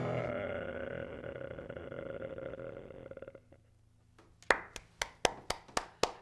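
Sharp hand claps, about eight in a row, ring out near and loud after a fading stretch of music and a brief quiet.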